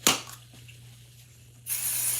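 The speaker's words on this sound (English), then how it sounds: "I'm spraying just a thin layer on the back of the stencil." Pixie Spray adhesive hisses from an aerosol can onto the back of a rotating card-making stencil: a brief sharp burst at the start, quiet pause, then a longer steady close spray at the end.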